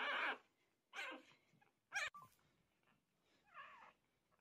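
Five newborn puppies nurse on their mother, giving several short, squeaky bursts of suckling and whimpering noise, separated by brief pauses, close by and fairly soft.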